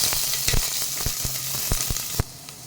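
Chopped onion sizzles steadily in hot oil with cumin, curry leaves and garlic, a continuous close frying hiss broken by sharp crackles and spits, with no talking.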